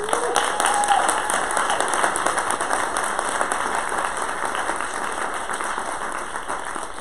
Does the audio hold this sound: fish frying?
no